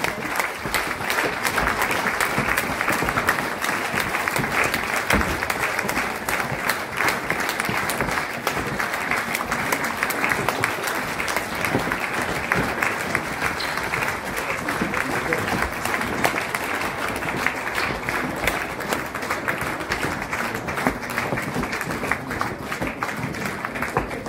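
Loud, sustained applause from an audience greeting a team of managers called onto a stage at a business event, steady dense clapping throughout with no pause.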